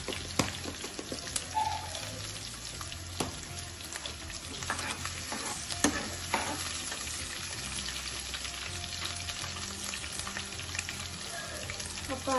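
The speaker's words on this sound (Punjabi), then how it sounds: "ਆਪਾਂ ਅਦਰਕ ਲਸਣ ਨੂੰ ਜ਼ਿਆਦਾ ਬਰਾਊਨ ਨਹੀਂ ਕਰਨਾ, ਹਲਕਾ ਜਿਹਾ ਇਹਨੂੰ ਆਪਾਂ ਫਰਾਈ ਕਰਨਾ ਹੈ।" Cumin, ginger and garlic fry in a pan for mattar paneer, giving a steady close sizzle with crackling pops and occasional stirring scrapes throughout.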